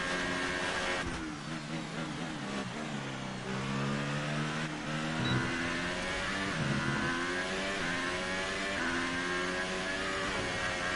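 Race car engine in F1 2018, revving and climbing through gears with rising and falling harmonic whine, several upshifts over a sustained loud drone, with no talking.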